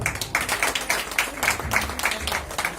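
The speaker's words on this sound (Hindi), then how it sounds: "जोरदार तालियों से स्वागत किया जाए।" Audience applause at an award ceremony in Jabalpur, India, rhythmic clapping with regular beats as a crowd claps together, moderately loud and close, with no voices over it.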